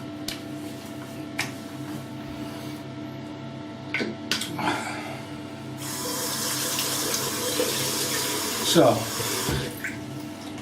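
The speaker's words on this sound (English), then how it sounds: "I'll stop the dripping tap." A dripping water tap in a bathroom sink, with scattered drops and splashes, a stretch of running water in the middle and a brief bit of nearby speech.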